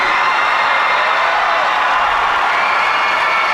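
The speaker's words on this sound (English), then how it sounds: "Listen to this crowd." A packed high school gym crowd roars during a boys basketball state championship game, a loud continuous wash of cheering and whoops with no clear single voice.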